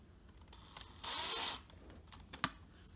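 Bolts being removed from a Dyson DC50 Animal vacuum: faint, close mechanical clicks and light rattling, with a half-second burst of whirring and a sharp tap near the end, and no voices.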